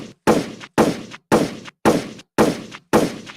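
Gunshot sound effect fired as a rapid series: six loud, sharp blasts at an even rhythm, each with a short ringing decay, with no voices over them.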